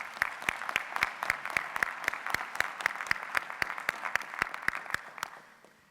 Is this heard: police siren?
no